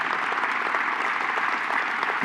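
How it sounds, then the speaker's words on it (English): A gala audience marking a college's 175th anniversary fills the room with steady, even applause, many hands clapping continuously at a moderate distance, with no voices standing out. "let's give the college a round of applause for that milestone"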